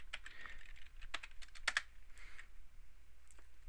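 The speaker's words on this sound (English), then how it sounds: "Then you type in the password. Make sure it is case sensitive," A password is typed on a computer keyboard as a close run of quick, uneven key taps over a few seconds, faint and with no one speaking.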